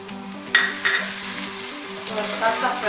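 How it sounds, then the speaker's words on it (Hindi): Garlic and green chilies frying in two tablespoons of oil, a steady close sizzle with a few brief stirring clinks and scrapes, no voices. "इसको हल्का सा फ्राई करना है"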